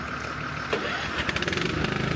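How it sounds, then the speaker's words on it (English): The engine of a truck-mounted snow blower cranks and fires up, settling into a close, loud, fast rhythmic chugging idle with no voices. "Step one is just to fire up the engine."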